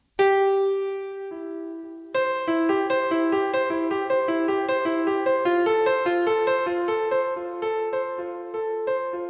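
Piano keys are struck firmly. A single held note sounds, then a run of loud, bright notes rings out clearly, with no voices.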